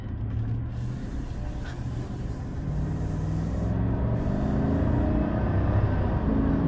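Steady low engine rumble and road noise from a Chevy truck driving on the road, continuous and fairly loud throughout with no talking.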